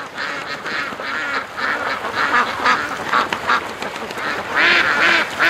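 Crowded ducks quack in steady overlapping bursts, moderately loud and close, as a dog pushes the whole flock out along a creek.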